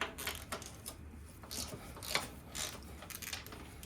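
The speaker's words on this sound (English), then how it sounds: "First I'm going to loosen this one right here" Bolt being loosened on a Royal Enfield Interceptor 650 luggage rack: quiet close-up metallic clicking and ratcheting in short irregular bursts, faint against background noise.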